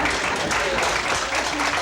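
An audience at a gala claps for a speaker in a steady, fairly loud round of applause that holds without a break. No talking can be made out over it.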